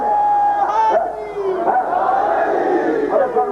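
A gathered crowd shouting religious slogans in loud unison, several swelling chants rising and falling over a few seconds.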